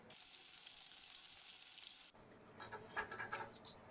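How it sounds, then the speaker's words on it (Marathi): Poha chakli frying in hot oil on medium gas, a steady soft sizzle filling the first half, then quieter crackling with light clinks as the spirals are turned. "चकल्या एक ते दोन वेळा अशा पलटून घ्यायच्या मिडियम गॅसवर भाजून घ्यायच्या आहेत चकल्या"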